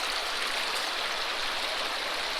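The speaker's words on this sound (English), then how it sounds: "this water is really going fast and doing the trick here today" Fast-flowing Kern River water rushes through a gold sluice on a gravel bar, a steady broadband hiss and gurgle that stays loud and unchanging throughout, with no voices.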